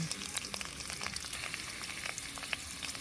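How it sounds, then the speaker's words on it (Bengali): Steady crackling sizzle of chopped onions frying in hot oil in a kadai with bay leaves and whole cumin, with scattered sharp pops throughout and no voices. "এখন আমি পেঁয়াজটাকে বেগুনি করে, বাদামি করে ভেজে নেব।"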